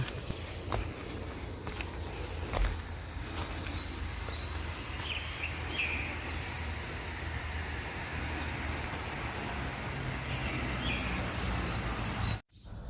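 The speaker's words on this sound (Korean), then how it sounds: "아침 새소리가 상큼하다." Morning birdsong rings through a mountain healing forest at Manyeonsan in Hwasun, with scattered chirps and short calls at moderate distance over a steady outdoor hush and soft footsteps of a walker.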